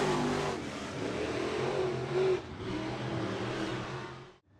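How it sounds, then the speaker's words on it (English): Sport compact race cars speeding around a Raceway Park oval, a steady loud roar of several engines revving together with a brief surge midway, fading out sharply at the end. "Gap in the 44 of Snyder's as they come into turn 3"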